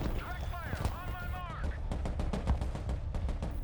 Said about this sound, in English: Let's move this artillery to pummeling this bit here.